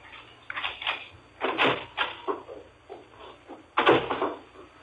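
Footsteps climb the walk to a front door in an old sci-fi radio drama: a series of muffled steps at an irregular pace, a short pause, then a louder final step.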